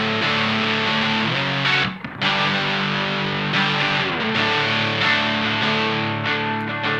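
An electric guitar plays through a Mad Professor Little Green Wonder overdrive pedal set for a gritty, gnarly drive, loud sustained chords ringing for several seconds with one brief break near the middle, heard alone without talk.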